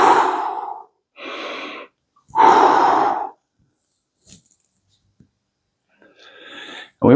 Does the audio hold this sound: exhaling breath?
yes